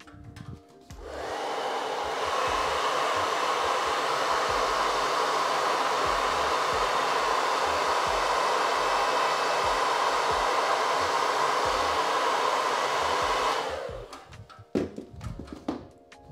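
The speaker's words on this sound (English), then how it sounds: "A little bit more hair dryer. Last hair dryer of the stream." A hair dryer blows in one continuous, steady roar for about twelve seconds, starting and stopping abruptly, with faint rustling around it.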